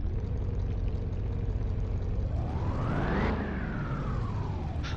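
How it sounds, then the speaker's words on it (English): A car engine running on a dyno in Car Mechanic Simulator 2021, a steady drone that climbs in pitch as revs rise, peaks, then falls back, loud and continuous with no talk. "let's run a quick dyno check on her"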